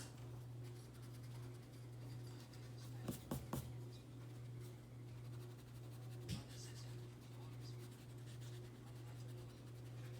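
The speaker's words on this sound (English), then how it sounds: "I'm going to need to draw 1 more horizontal line." A hard pencil drawing lines on paper: a few quick scratchy strokes, faint and close, over a steady low hum from a quiet room.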